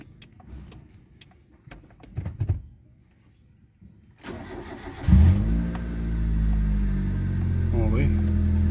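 Car engine cold-started after a valve cover gasket replacement: quiet clicks and handling noises first, then the starter cranks, the engine catches with a burst of revs and settles into a steady, close idle.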